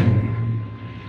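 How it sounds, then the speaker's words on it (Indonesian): A 1997 Opel Blazer with a 2.2L DOHC engine sits running, a steady low idle hum with no starter sound, close and even throughout. "kita nyalakan dulu mesinnya"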